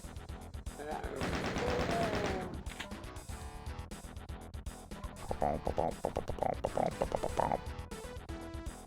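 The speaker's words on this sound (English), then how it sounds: "Just get out the chain gun" Chain gun in DOOM: Legacy of Rust firing rapid bursts of gunfire among tight hallways, a sustained volley early and a rattling string of shots later, loud under game music and effects.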